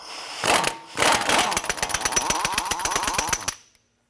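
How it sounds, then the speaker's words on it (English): An impact tool with a 36mm socket removes the front axle nut on a 2004-2008 Acura TL, giving a loud close burst, a short pause, then a long rapid hammering rattle that stops abruptly. "Using a 36mm socket,"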